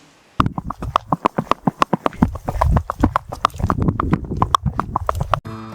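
Hooves of a Rocky Mountain Horse, a small American breed, clip-clop in a brisk, regular rhythm, close and loud, with a rumbling, shuffling undertone between the sharp strikes.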